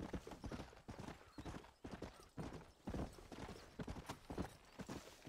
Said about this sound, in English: Why will the horse not stop?